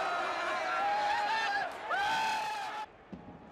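A stadium crowd roars jubilantly after Hisato Sato's close-range goal for Sanfrecce against Ulsan Hyundai, with sustained cheering, whoops and whistles that swell, dip and swell again before cutting off abruptly.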